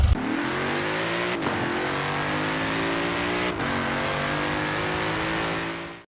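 A Chevrolet Equinox engine runs steadily up close, its even mechanical drone holding throughout before cutting off abruptly at the end.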